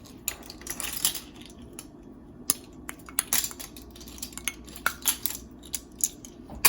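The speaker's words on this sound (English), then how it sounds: "chop up about 2 tablespoons of fresh oregano leaves" A knife chopping fresh oregano leaves on a board makes irregular sharp taps and clicks, some quick clusters and some single strikes, close and crisp with no talk.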